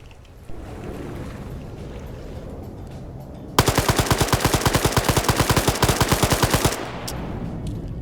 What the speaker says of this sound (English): I love how air's strafing the roof where all the friendlies are